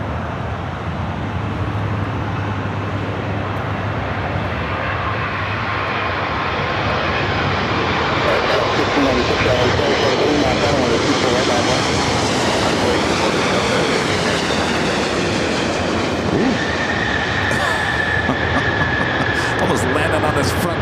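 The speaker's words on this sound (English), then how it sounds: "Up next is that Japan Airline Dreamliner coming up from Tokyo Narita" Japan Airlines Boeing 787 Dreamliner arriving from Tokyo Narita and touching down at LAX, a loud sustained roar of jet engines building and then easing, heard from a distance under a broad rushing wash.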